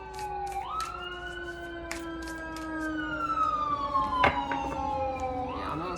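A distant emergency vehicle siren wails with slow rising and falling tones, passing through the background with faint road noise and occasional clicks.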